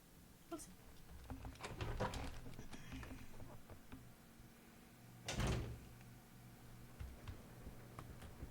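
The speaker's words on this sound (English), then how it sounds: "And now we're ready to open that door, I think." A door opens in the video game Resident Evil 0, heavy creaking and clunking bursts with a strong thud near the middle over low ambient rumble, heard alone.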